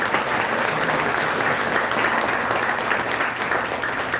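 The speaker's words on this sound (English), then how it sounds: "Let's give them another round of applause" A banquet crowd applauds at a school sports awards night, steady dense clapping filling the room without a break and no voices above it.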